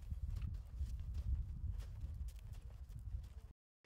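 Horse hooves clip-clop in a steady walking rhythm, at moderate level and alone with no talk, after a horse-whisperer training session for city staffers, ending in sudden silence.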